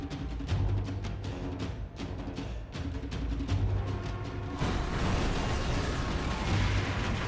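Heavy rumbling blasts and booming bursts from thermal detonators in a Star Wars Battlefront game battle, rolling over a dense, noisy battle din, growing louder and more continuous toward the end.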